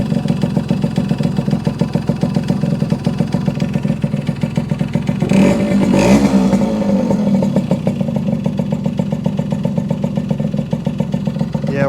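A 1974 Yamaha RD60 motorcycle engine idles close by at low revs with a steady, rapid putter, and there is one short throttle blip partway through.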